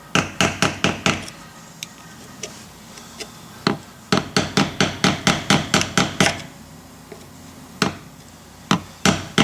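Lock washer tab being hammered and bent off an axle: a series of sharp, close metallic knocks, mostly in quick bursts of four or five with short pauses between, struck at a brisk, uneven rhythm.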